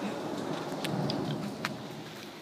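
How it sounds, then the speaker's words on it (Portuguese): Thunderstorm in Winterthur, Switzerland, with steady rain hissing throughout and a couple of faint, distant thunder rumbles and cracks, no one talking. "Tempestade na Suíça é assim"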